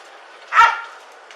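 A police dog gives a single sharp bark during a tense arrest, close and loud against a quiet background.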